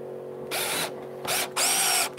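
A power drill drives screws into wood in three short close bursts, each whining up and cutting off, with brief pauses between.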